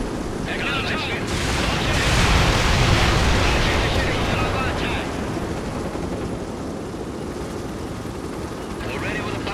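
A heavy gunship helicopter flying in the real-time strategy game World in Conflict, a broad roaring rotor and engine rumble that swells and fades, with brief radio voice chatter.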